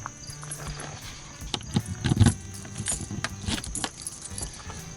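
A bunch of keys on a single key ring jangles and clinks, close and fairly loud, a short burst of metallic rattling that peaks midway and then settles into lighter shaking.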